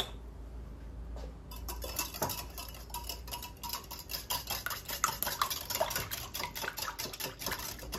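A whisk or utensil stirring milk, oil, eggs and salt in a bowl, with quick rhythmic clinks and taps against the dish, close and fairly soft, alone.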